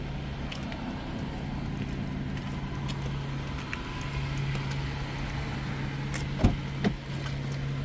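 Low, steady engine idle from a used car under inspection, faint and even throughout, with a couple of small clunks near the end and no talking.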